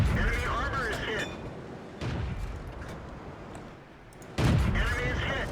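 Tank cannon shots and shell hits in World of Tanks with an M24 Chaffee: several heavy booms and rumbling impacts come in bursts, separated by quieter gaps, with a synthetic voice speaking between them.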